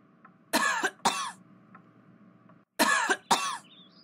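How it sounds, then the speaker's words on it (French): Two pairs of harsh coughs from an animated character, each a quick double burst, close and clear against a faint background, with a short pause between the pairs. "Oh, tu tousses"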